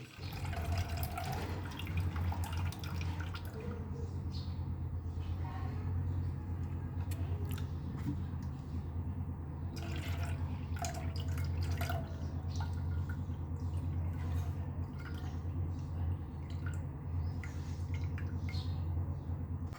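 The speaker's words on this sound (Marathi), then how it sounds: "हे सगळं पाणी आपल्याला काढून घ्यायचं" Water poured off soaked wheat trickles and drips in scattered splashes over a constant low hum, quiet and close, continuing unevenly for the whole stretch.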